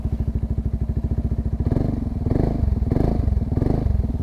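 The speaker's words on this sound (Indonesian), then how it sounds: "Jadi suaranya lebih ngebas seperti ini." A 2018 Yamaha Xmax 250 scooter with a modified, deeper-toned exhaust idles with rapid even thumps, then is revved several times into a heavier, louder throaty roar close to the listener.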